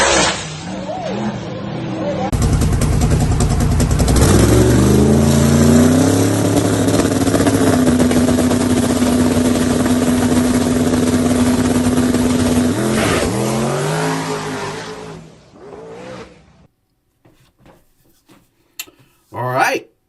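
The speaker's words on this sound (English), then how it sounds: "let's watch these wheelies and see if we can figure out what caused this to happen" A drag race car launches into a wheelie with a loud, close engine roar that climbs in pitch and holds for about twelve seconds. It then cuts off, leaving a few faint scattered noises.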